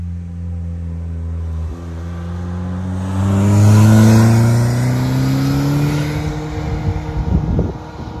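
A Carver One three-wheeled tilting vehicle drives downhill, its engine note rising as it approaches, swelling to a loud close pass, then fading with a rougher rumble at the end.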